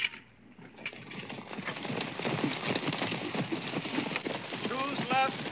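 Galloping horse hooves drum steadily under a loud wash of noise and shouting voices in a 1954 Western film about Sitting Bull, the pounding rhythm running throughout.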